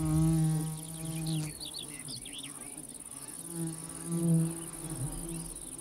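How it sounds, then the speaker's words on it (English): Solitary bees buzz close by around their nest holes in a meadow gully, a low droning hum that swells and fades as they pass, with brief high chirps in the background. "Numerous smaller holes are actually entrances to brooding chambers belonging to solitary bees."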